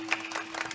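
Brief patter of audience applause at a village devotional week gathering in Kongaon, thanking the sound system crew, faint and distant, under a second.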